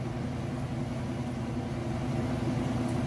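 A Roper top-load washing machine runs its final spin at full speed, giving a steady, close, even hum with a smooth low-pitched drone throughout and no talking.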